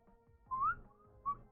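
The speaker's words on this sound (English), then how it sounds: "kind of whistle breathing both out and in" Whistled tones produced on both the exhale and the inhale, a longer rising note followed by a short second whistle, clear and close with soft breath noise in between.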